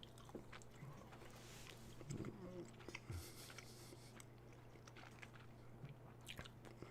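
Crunchy snacks from a vegan snack box are chewed right at the microphone, giving soft crunches and bites over a steady background hum, with a few louder crunches scattered through.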